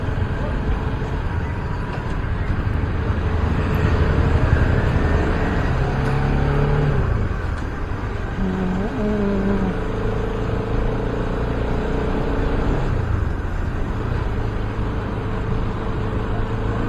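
Heavy road traffic on Commonwealth Avenue with a stream of large vehicles, a steady broadband engine and tyre rumble filling the whole stretch, with low engine drones rising and falling as vehicles pass nearby and voices talking over it.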